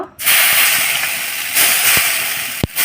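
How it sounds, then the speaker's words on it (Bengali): White rice-flour batter for chhita pitha hisses steadily as it fries on a hot pan, a loud continuous sizzle with a sharp click near the end and no talk. "এখন আমি সাদা ব্যাটাটা যে বানিয়ে রেখেছি এটাও আমি ভেজে নেব"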